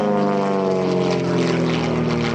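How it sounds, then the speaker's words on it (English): A North American T-28 propeller trainer roars loud and steady overhead at an airshow, its engine drone rich with layered harmonic tones and no talk over it. "the T-28s are flying above your head"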